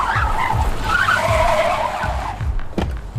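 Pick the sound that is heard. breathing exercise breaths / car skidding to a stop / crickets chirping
car skidding to a stop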